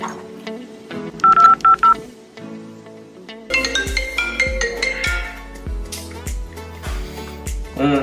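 A telephone number is keyed in with a quick series of beeping touch-tone presses, followed by a bright, rhythmic ringing melody that pulses several times, loud and close with no speech.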